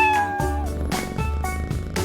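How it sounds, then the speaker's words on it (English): A cartoon cat meows several times in quick succession, clear, close, tonal cries rising and falling over a soft musical backing, in a children's animated show about a truck and farm animals. "And who do we have here meowing?"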